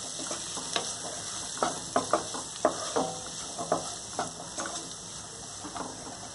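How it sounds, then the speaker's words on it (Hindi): Spoon stirring half a spoon of turmeric into a frying mixed-vegetable filling for batata vada, with soft scraping strokes repeating at a steady rhythm over a low, continuous sizzle, close and fairly quiet. "अब मैं इसमें आधा चम्मच हल्दी डाल रही हूँ और इसे मैं अच्छी तरह मिक्स कर रही हूँ"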